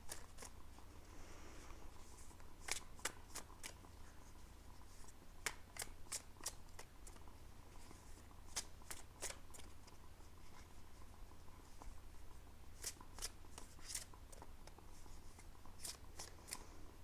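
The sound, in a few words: shuffling tarot cards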